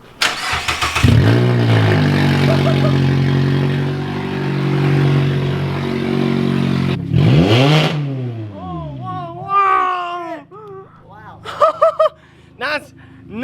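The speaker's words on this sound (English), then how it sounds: "we're gonna start the car, open headers, or well, I guess open downpipe to see what it sounds like without any exhaust on it" A Mazda ND Miata starts and idles with an open downpipe and no exhaust, a loud raw close engine drone that blips and revs before cutting off, with voices talking over the end.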